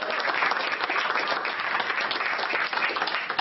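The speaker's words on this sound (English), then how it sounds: "Please give Andrew a round of applause." A studio audience applauds a guest on a talk show, steady, dense clapping from a crowd at moderate loudness for a few seconds, sounding slightly muffled and band-limited.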